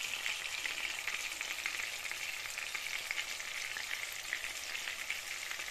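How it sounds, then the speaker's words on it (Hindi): Chapli kebabs, Peshawari style, frying together in a pan over medium heat, giving a steady, close, even sizzle of hot oil that runs throughout with no voices. "तो साथ साथ फ्राई करते हैं, आपको दिखाते हैं एक एक करके।"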